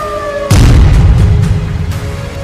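A heavy explosion booms during the Iranian missile attack on Tel Aviv, arriving abruptly after a steady siren-like tone and rumbling on loudly for about two seconds with smaller bursts inside it.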